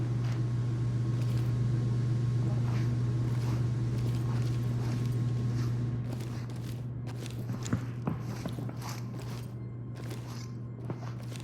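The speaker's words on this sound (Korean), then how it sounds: "발소리 들린다." Footsteps in the video game Ready or Not: a continuous low hum runs throughout, with a series of faint, irregular steps that grow more distinct in the second half.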